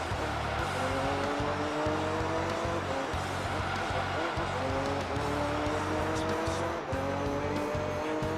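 A Lotus Esprit race car engine in Gran Turismo 3 drones loud and continuous, repeatedly rising in pitch through the gears with rhythmic shift breaks, accompanied by faint tire noise.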